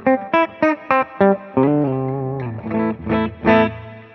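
An electric guitar plays through the clean channel of a Fuchs ODS Classic combo amplifier, a few short plucked chords in a rhythmic pattern, then sustained ringing chords with a touch of reverb.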